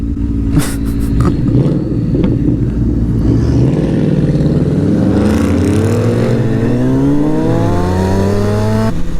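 A loud, deep diesel engine revs up with rising pitch and a rough, rumbling exhaust tone from a large exhaust pipe, heard close and continuously.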